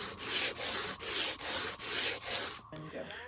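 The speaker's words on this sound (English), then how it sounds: "sanding down the sharp spots so your mattress doesn't pop." Rhythmic back-and-forth sanding strokes rasp over hard fiberglass on a camper shell, about six even passes close by, followed by a brief shuffle.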